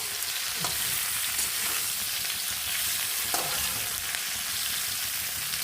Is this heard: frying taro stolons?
yes